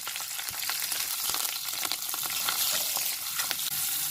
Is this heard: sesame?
yes